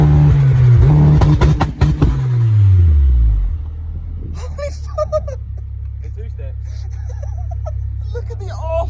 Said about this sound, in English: Let's try and get some two-steps out of this biatch.